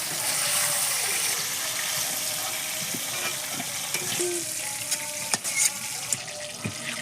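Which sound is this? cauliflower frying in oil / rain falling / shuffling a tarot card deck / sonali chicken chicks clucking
cauliflower frying in oil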